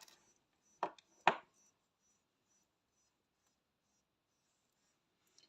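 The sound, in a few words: cutting crochet yarn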